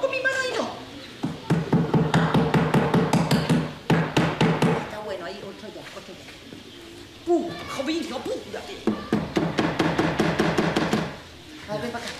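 A hammer drives nails with rapid, steady blows in several bursts, loud and close, while people talk nearby and birds call in the background.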